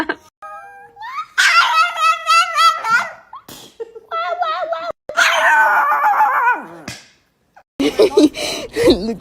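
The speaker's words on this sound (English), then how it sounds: "No me gruñas." A dog growls, then breaks into a run of loud, close yips and barks in bursts with brief pauses, while people talk and react nearby.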